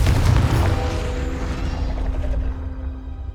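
Confringo blasting spell cast in Hogwarts Legacy on PS5: a deep, loud boom bursts at the start and rolls into a long rumbling decay that fades over a few seconds, with no speech.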